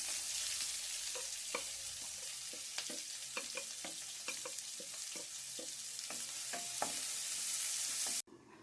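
Green chillies and onions sizzle and fry steadily in a curry pan for Telugu-style gorukudu curry, with occasional stirring clicks over the continuous hiss, which cuts off abruptly near the end.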